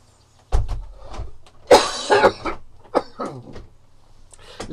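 A man indoors near a window coughs several times in harsh, irregular bursts, loud and close, with some faint voiced sounds between them.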